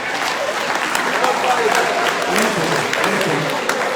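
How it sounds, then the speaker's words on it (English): Steady crowd applause from the audience at a university inaugural lecture, fairly loud and continuous with scattered individual claps standing out and a faint voice underneath. "Please, can you keep your clapping to the end of this?"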